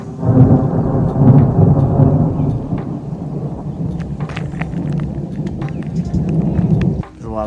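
Deep thunder rolls outdoors in a continuous low rumble that swells and eases over several seconds, with rain hissing underneath.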